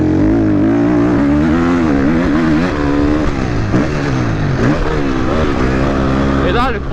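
A 350 dirt bike revs loudly on a technical motocross track, its engine note rising and falling as it downshifts over a jump, close and continuous throughout with no break.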